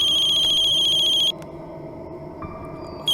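A phone ringtone plays loudly for about a second, then cuts off, leaving a quiet room with a steady faint hum.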